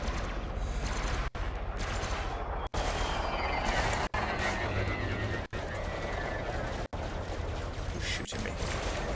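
Sustained gunfire striking a ship in the space game Elite: Dangerous, a steady dense barrage broken by brief regular dropouts, with a faint voice underneath.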